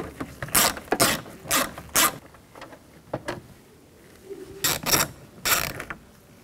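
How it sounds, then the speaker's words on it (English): A 7mm socket on a ratchet wrench loosening bolts, heard as loud, close bursts of rapid clicking in several separate runs, with short pauses between them and no talking. "Take these two bolts out, there's one here, there's one down below here. Use a 7mm socket."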